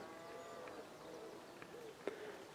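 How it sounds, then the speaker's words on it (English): Cows lowing in a field at sunrise in the countryside, a faint, distant low moo drawn out under quiet ambient air, with a soft brief thump near the end. "Cows are lowing in the field,"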